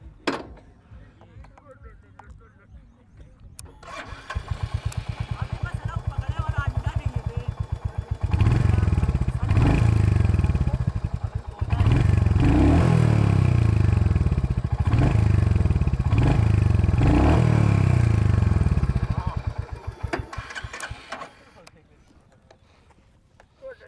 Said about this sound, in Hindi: एक बार दोनों का आपको एग्जॉस्ट नोट दिखा देते हैं कि इनका एग्जॉस्ट नोट कैसा साउंड करता है।